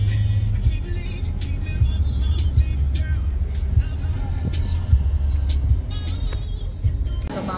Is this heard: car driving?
yes